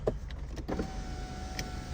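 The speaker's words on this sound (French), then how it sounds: "Je vais peut-être fermer les fenêtres." Electric power windows glide shut in an eighth-generation Volkswagen Polo, a steady motor whir running for about a second after a few faint clicks, quiet and close inside the cabin.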